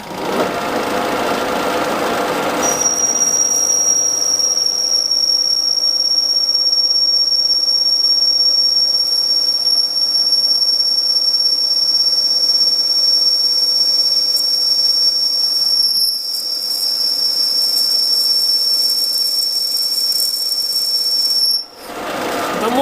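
A metal lathe cuts grooves into a D16T aluminium gear blank spinning at 300 rpm. A loud, steady high-pitched whine runs almost without a break for about twenty seconds, with two brief dips, and no one speaks.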